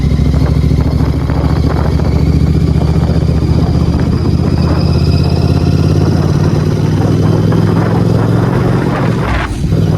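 A Royal Enfield Continental GT650 motorcycle rides along a highway near a toll gate, its engine a steady, loud, close drone that runs throughout with continuous wind rush.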